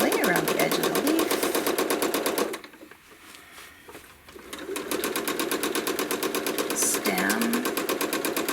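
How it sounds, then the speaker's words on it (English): A sewing machine stitching around the edge of an appliqué leaf, its fast rhythmic needle clatter running steadily, pausing briefly in the middle, then resuming, with a voice talking over it. "So I have to stitch very carefully, somewhat carefully, around the edge of the leaf."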